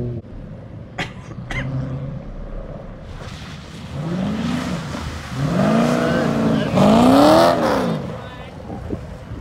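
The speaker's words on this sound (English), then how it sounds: "That was my best slide in that car." A Nissan R33 sliding sideways on a track while drifting: engine whine sweeps up and down in rising, falling arcs, growing louder and closer as the car revs through the slide, with some talk over it.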